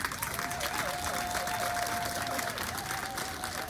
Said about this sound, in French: J'aimerais qu'on acclame cela.